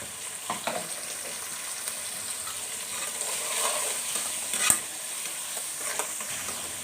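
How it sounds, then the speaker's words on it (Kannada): Onion and green chili fry in a pan with a steady close sizzle, punctuated by light stirring scrapes and a brief clink, and no voices. "ಇವಾಗ ಈರುಳ್ಳಿ, ಹಸಿಮೆಣಸಿನ್ಕಾಯಿ ಎಲ್ಲ ಸ್ವಲ್ಪ ಫ್ರೈ ಆಗಿದೆ."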